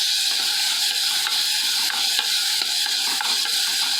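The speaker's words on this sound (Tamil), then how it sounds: "அடுத்து 2 பழுத்த தக்காளி போட்டோம். தக்காளி நல்லா வதங்கணும், சொப்பு மாதிரி வதங்கணும்." Two ripe tomatoes sautéing in a hot pan give a steady close sizzle and hiss, with soft stirring scrapes throughout and no talk.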